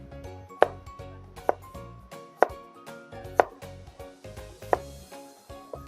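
A small paring knife cutting straight down through an apple on a board, striking in a steady series of sharp taps about once a second, close and clear, each followed by faint rustling, with no speech.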